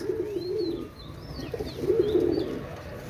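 Omani pigeons kept for sale cooing nearby in two drawn-out, throaty phrases, with light higher chirps from other birds scattered over a soft background murmur.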